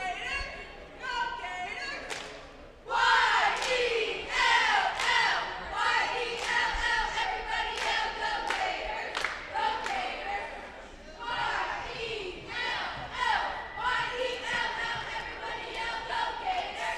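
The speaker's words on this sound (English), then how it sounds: "Gators cheer squad takes us from quarter 3 to quarter 4" A Gators cheer squad performing at a girls' high school basketball game, with loud rhythmic chanting, shouted calls, and claps and stomps echoing through a gym. The crowd noise continues under the squad throughout.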